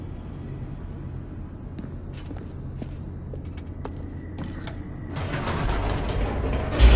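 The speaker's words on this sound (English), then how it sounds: "The elevator raced downward, plummeting towards an unknown fate." An elevator descends in the video game The Stanley Parable, with mechanical creaks and scattered clanks that swell into a louder, rumbling rush of movement near the end.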